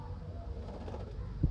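Sialkoti pigeons, including a black-faced female crossed with a Teddy pigeon, coo softly and low amid background noise, with a brief, slightly louder coo right at the end.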